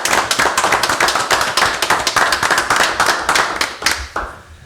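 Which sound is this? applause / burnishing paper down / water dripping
applause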